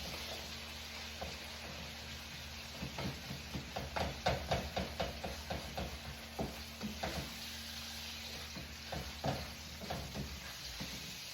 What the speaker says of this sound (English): Let's give this beef a little stir.